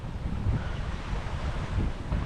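Strong, steady wind at sea, around 20 knots, roars over open water beside a Catana 58 catamaran under full mainsail and self-tacking jib, with a dense buffeting rush and washing surf close to the microphone.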